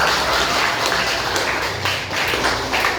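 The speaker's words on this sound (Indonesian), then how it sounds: "Tepuk tangan sekali lagi." Classroom students clapping together, a dense, fairly loud patter of hands that swells and dips slightly over a few seconds, with no talk over it.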